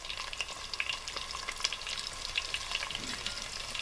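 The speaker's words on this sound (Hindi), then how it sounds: "अब इसी घी के अंदर मैं इस तरह बारीक कटी हुई प्याज डालूंगी।" Two medium onions, finely chopped lengthwise, fry in hot ghee for an aloo gosht, giving a steady dense sizzle with small crackling pops throughout, close and alone.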